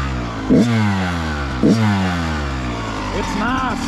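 A Kawasaki KX 112 dirt bike with a power valve two-stroke engine, set on the lean side, is revved nearby: two sharp throttle blips that fall back to a buzzing idle, with a voice talking over it.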